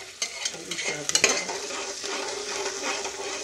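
Grated ginger and garlic dropped into hot oil in a pan for arhar dal khichdi, a loud steady sizzle with a few clinks of a spoon stirring against the metal near the start.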